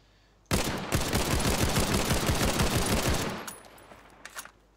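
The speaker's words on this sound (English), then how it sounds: "the M1 carbine." Rapid shots from an M1 carbine in the World War II shooter Battalion 1944 crack out in a dense, fast string lasting almost three seconds, then fade into a ringing tail with a couple of faint later pops.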